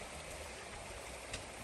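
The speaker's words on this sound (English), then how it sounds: "Nice little brook" A small brook flows beside a hiking trail on the Appalachian Trail, a faint, steady broadband rush of running water with no voices.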